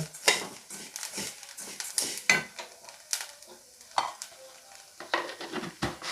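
Leftover rice mixture sizzles and crackles in hot oil as a utensil stirs it around the pan, giving repeated scraping, clinking strokes at an uneven rhythm, close and fairly quiet, with no voices.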